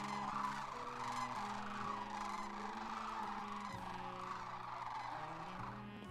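Sandhill crane calls from a family of cranes living near an apartment, a loud continuous rattling, trumpeting chorus of overlapping honks with no talking.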